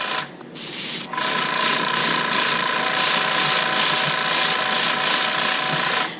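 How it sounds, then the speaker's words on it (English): Airbrush spraying pearl paint onto a fishing lure at about 38 to 40 psi, a steady close hiss with faint mechanical clicking that runs continuously, no talk. "We're running the airbrush around 38 to 40."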